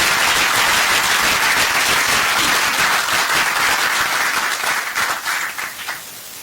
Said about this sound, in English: let's give our pollinator a big round of applause